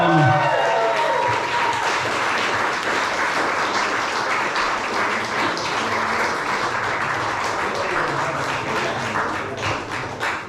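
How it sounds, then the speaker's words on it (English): Wedding guests give the newlyweds a sustained round of applause, a dense, lively clapping crowd that starts loud and holds steady for about ten seconds before slowly thinning. "Give your newlyweds a round of applause, everyone."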